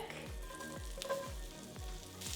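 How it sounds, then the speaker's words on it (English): Shallot and garlic sauté in a pan that was deglazed with wine, making a continuous sizzle. A spoon or spatula scrapes and stirs in a few regular sweeps, and no one speaks. "Now we're gonna let this saute for about 2 to 3 minutes until the shallots are translucent"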